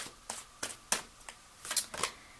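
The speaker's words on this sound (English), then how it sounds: "I hope you guys can hear me shuffling." Tarot-style Souls cards being shuffled by hand close up, a series of brief crisp riffling bursts spaced irregularly, loud against a quiet room with no voices.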